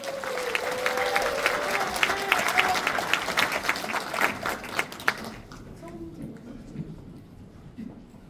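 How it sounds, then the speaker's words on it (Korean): An audience at a political constituency report meeting breaks into applause, loud and sustained for about five seconds before fading into quieter room noise with a faint voice. "모두 큰 박수로 모셔보도록 하겠습니다."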